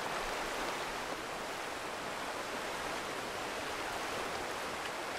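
Steady broadband rush of flowing river water at a baptism, a continuous wash with no pauses, close and fairly loud and heard on its own without voices.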